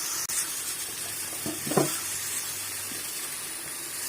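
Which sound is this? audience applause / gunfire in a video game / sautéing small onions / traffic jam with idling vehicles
sautéing small onions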